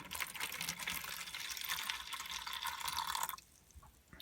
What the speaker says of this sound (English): just grab your tub, pour in some hot water